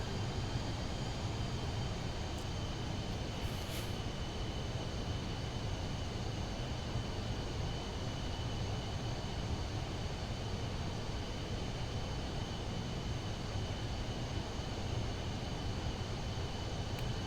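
A Pilatus PC-24 business jet in Microsoft Flight Simulator 2024 gives a steady, even engine roar with a broad airy rush and a faint high whine, holding at one level throughout with no speech.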